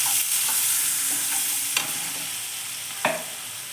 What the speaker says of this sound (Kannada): ಸ್ವಲ್ಪ ಫ್ರೈ ಆಗಬೇಕಿದು.